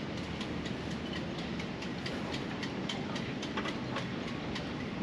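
Strong gusty wind buffets the microphone aboard a boat in the aftermath of a hurricane, a steady broadband roar with faint clattering, no voices.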